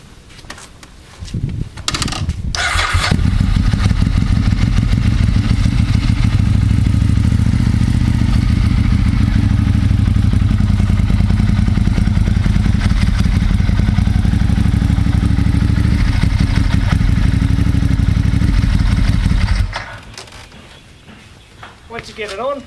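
A motorcycle engine roars steadily and loudly for most of the stretch as the bike is ridden up a ramp onto a MotoTote hitch carrier on a slight hill, cutting off near the end.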